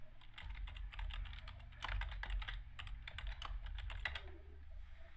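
Rapid clicking of the tab key on a computer keyboard, a run of quick taps over a low steady hum.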